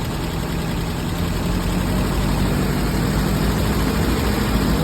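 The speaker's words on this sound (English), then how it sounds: "I need to give it some gas just to show you guys" A truck engine idling and being given some gas after being run with no coolant, a steady loud low rumble that stays near and even throughout with no talking.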